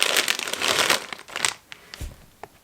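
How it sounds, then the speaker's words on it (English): Crinkly packaging on Halloween candy treats rustles and crackles up close, a dense burst of crumpling that thins into a few scattered crinkles. "excuse the rustling"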